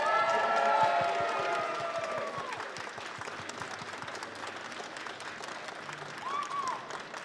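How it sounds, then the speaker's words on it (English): At a comic convention in Birmingham a large crowd applauds and cheers, with loud whistles and cheers over dense clapping at first, then the applause carries on a little softer and steadier, and one more cheer rises near the end. "let's have a big, huge, massive round of applause for C3PO himself, Anthony Daniels"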